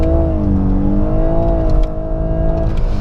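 A 2018 Lexus LS 500h hybrid sedan accelerates hard in Sport S Plus mode with manual shifting, its engine note rising steadily and loudly with a smooth whirring tone, close and continuous with no talking.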